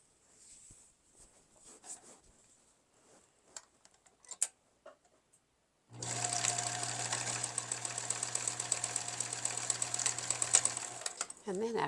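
Two fabric ties are sewn together on a sewing machine. Quiet rustling and handling give way midway to a loud, steady, rapid ticking run of the machine that continues to the end.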